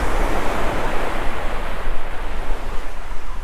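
Ocean surf washes steadily and loudly as waves roll in during a fishing trip, with wind buffeting the microphone throughout and no talk.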